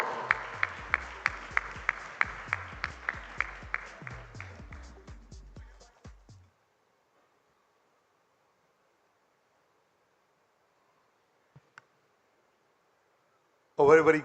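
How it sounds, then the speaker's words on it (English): An audience at a Rotary Institute gathering in Kochi claps in a slow, rhythmic unison beat that gradually weakens and stops, followed by long silence and a brief burst of voice at the very end. "I think it calls for a louder round of applause."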